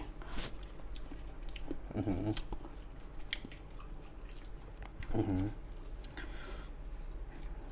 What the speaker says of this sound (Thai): เดี๋ยวขอลองกินซอสก่อนนะครับ